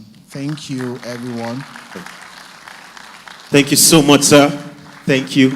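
Applause rises for a keynote speaker at a small-business conference and fair, a broad wash of clapping that swells in the last couple of seconds under and between a voice speaking into the microphone.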